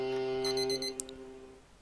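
An electric alarm clock rings in the video game Papers, Please: a steady buzzing tone with layered harmonics and a brief chiming beep pattern, close and fairly loud, ending after about a second and a half.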